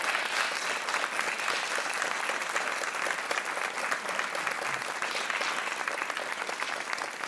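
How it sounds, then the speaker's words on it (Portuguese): On a TV quiz show, the studio audience gives sustained applause for a contestant, a thick, even wash of many hands clapping at moderate loudness that holds steady for several seconds with no talking. "Mais aplausos para o Hugo."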